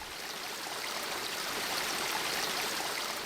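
A dirty, polluted river in Bulacan flows steadily with a broad, constant rushing wash of water, even and continuous throughout with no voices.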